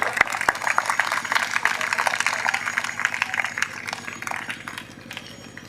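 A crowd at a Republic Day gathering in Bahadurgarh village applauds, a steady wash of many hands clapping at moderate loudness for several seconds, with a steady low hum underneath and a few sharp louder claps near the start.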